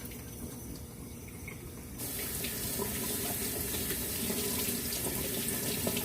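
Steady rush of running tap water that grows louder partway through, with faint clinks and splashes as sweet potatoes are scrubbed and rinsed beneath it.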